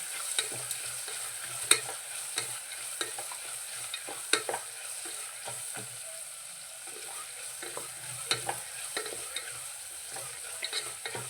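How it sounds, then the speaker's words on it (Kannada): Onion softening in hot oil with curry leaves and green chillies for a village-style huli uppittu, a continuous sizzle broken by frequent close scraping strokes of a spoon stirring the pan. "ಸ್ವಲ್ಪ ಈರುಳ್ಳಿ ಮೆತ್ತೋ ಮೆತ್ತಗಾಗೋವರೆಗೂ ಇದನ್ನು ಬೇಯಿಸ್ಕೊಳ್ಳೋಣ ಎಣ್ಣೆಯಲ್ಲಿ"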